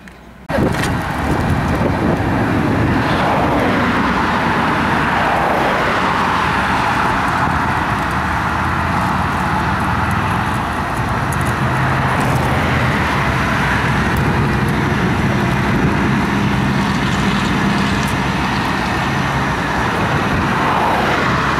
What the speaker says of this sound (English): the tow truck is here.